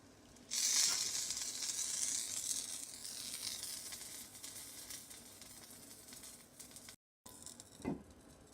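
A keema naan cooks on a tawa over a low flame. A soft, steady sizzle and hiss come up after a quiet start, then gradually fade. Near the end there is a brief break and a short clatter.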